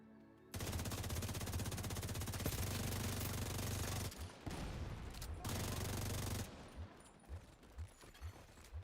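Rapid automatic gunfire in an open-world video game, aimed at big armored enemies, comes in loud, dense sustained bursts that cut off briefly twice before scattered single shots trail away at the end.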